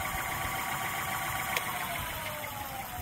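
Selis Butterfly electric bike with its motor running under throttle: a steady, fairly faint whine and hum with a thin high tone, continuous and even, close by and without speech.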